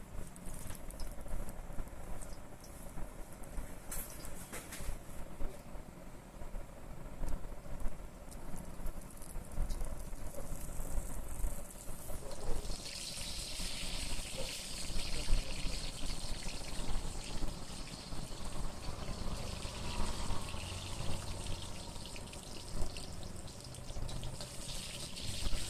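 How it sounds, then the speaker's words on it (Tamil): Cut pieces of parotta for street-style chilli parotta fry in hot oil, giving a steady, rain-like sizzle and patter throughout that brightens and intensifies partway through. "இப்போ எண்ணெயை ஊற்றி நம்ம பொரிச்சிக்கலாம்."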